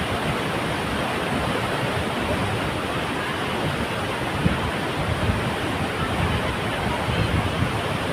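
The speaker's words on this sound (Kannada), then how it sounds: "ಸಿಕ್ಕಾಪಟ್ಟೆ ಎಫೆಕ್ಟ್ ಸೌಂಡ್ ಹಂಗೆ ಬರ್ತಾಯಿದೆ, ನೀರು ಸೌಂಡ್ ಕೇಳಿಸ್ಕೊಂಡು" Water roars steadily at Ramanakatte waterfall in Medini: a dense, unbroken wash of falling water fills the whole clip at an even, loud level with no voices.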